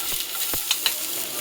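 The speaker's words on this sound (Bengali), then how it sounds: "এরপর পেঁয়াজ কুচিগুলো আমি এখন ভেজে নিব।" Chopped onions fry in a pan with hot oil, a steady close sizzle broken by a few quick spatula scrapes and clicks over a little more than a second.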